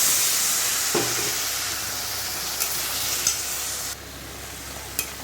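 Meat sizzles and hisses steadily in a hot pan after water has been poured in, with a few sharp clinks of a utensil against the pan over the continuous frying noise.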